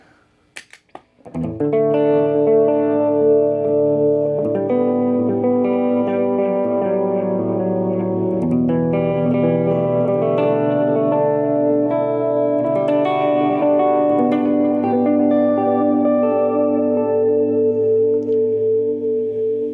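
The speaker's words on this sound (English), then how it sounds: "It's really just got that kind of classic analog washy kind of sound." Sustained electric guitar chords with a lush, wavering chorus shimmer and a washy analog modulation, played steadily and loud with no talking.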